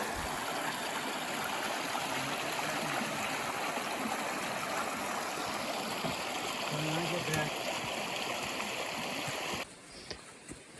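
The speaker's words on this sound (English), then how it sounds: "Here's our third crossing of Bear Creek." Creek water at the third crossing of Bear Creek on the Pinhoti Trail rushes in a steady, close, broadband wash for about ten seconds before abruptly dropping away near the end.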